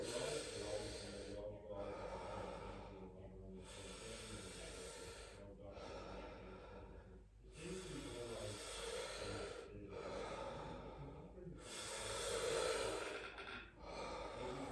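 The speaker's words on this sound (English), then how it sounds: "5 deep breaths to finish off with me, please" Slow, deep breaths at the close of a stretching session, about five long airy inhales and exhales through the mouth, fairly close and soft, separated by brief pauses.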